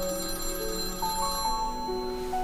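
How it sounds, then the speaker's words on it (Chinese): Melodic electronic ringtone from a mobile phone in a drama scene, a run of clear sustained tones shifting in pitch, ringing steadily and fairly loud with no voices over it. "对不起，我接个电话。"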